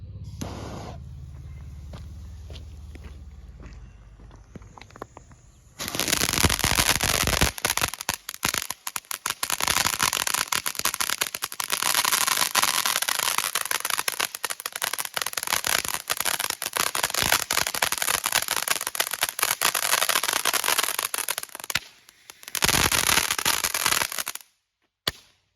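Consumer firework cakes from a large assortment fire in a long, dense barrage of loud crackling bursts, with a brief lull near the end before a final crackling volley and then silence.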